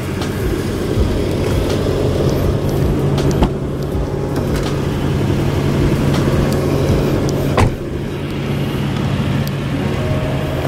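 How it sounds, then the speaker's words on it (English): A steady, low engine rumble from an idling Lexus LS400, held at raised RPM, runs throughout at close range, with a couple of brief sharper knocks; no talking. "Have to keep the RPMs up while it's idling"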